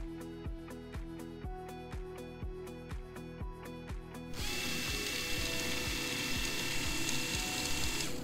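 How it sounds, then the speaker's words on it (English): Eve Thermo radiator thermostat motor running through calibration, a steady series of sharp ratcheting clicks that gives way midway to a continuous whirring mechanical grind, close and fairly loud with no speech. "Tap and hold the down button until the motor starts moving."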